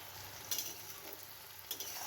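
Chopped onions frying in a pan for a country-chicken curry, a steady soft sizzle with a couple of brief stirring scrapes, close and alone without talk.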